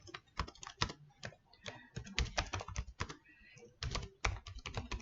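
Rapid clattering keystrokes on a computer keyboard, irregular quick taps in close succession with brief pauses, close and clear with no voices.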